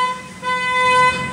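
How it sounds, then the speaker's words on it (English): Car horn honking in street traffic, a steady held tone of moderate loudness with faint background hum, no voices. "Honk that horn."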